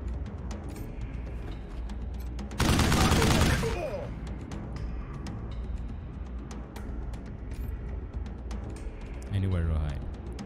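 Video game gunfire from Wasteland 3, a dense burst of rapid shots lasting about a second that stands out over a steady game soundscape, followed by a softer rumble near the end.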